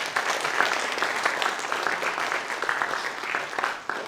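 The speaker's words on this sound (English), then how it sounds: "Give her a round of applause," Audience at a Saskatoon Fringe mind-reading stage show claps for a volunteer, a dense, even round of applause that holds steady for several seconds before tapering slightly near the end.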